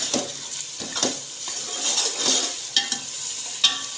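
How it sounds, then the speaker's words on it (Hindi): Spices frying in a pan with a little water added, a close, lively sizzle punctuated by several spoon scrapes and knocks against the pan over a few seconds, with no voice. "इसमें हम थोड़ा सा पानी डालेंगे। मसाले की थोड़ी देर मैं भुनाई करूँगी"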